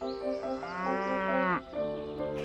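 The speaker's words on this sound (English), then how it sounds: "I think that your mama must be a" A cow moos in one long, loud, drawn-out call that rises and then cuts off, followed by a shorter lower moo. No other sounds intrude.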